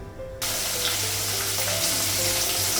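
Rui fish hitting hot oil in a home-kitchen wok bursts into a loud, sudden sizzle that continues as a steady, dense frying hiss.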